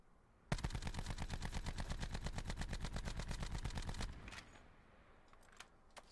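The Rampart 17 rifle in Call of Duty: Black Ops 4 fires a sustained automatic burst of rapid, evenly spaced loud shots for about three and a half seconds. Faint clicks and quiet game sounds follow.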